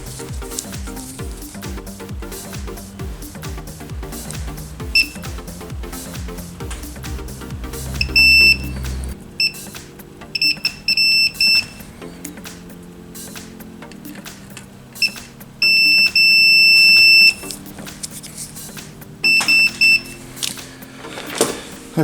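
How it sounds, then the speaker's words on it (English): A multimeter on continuity test beeps while probing solder joints on a WPC pinball machine DMD board, sounding as short, sharp, high beeps in irregular bursts, some long and sustained, over a low background hum. "I'm just going to check the continuity of these."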